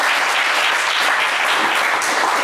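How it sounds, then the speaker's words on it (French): Studio audience on a French TV game show clapping loudly and evenly, a dense, close wash of applause filling the short stretch without speech. "Raphaël, on vous applaudit très fort."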